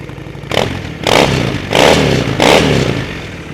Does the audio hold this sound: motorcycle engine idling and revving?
yes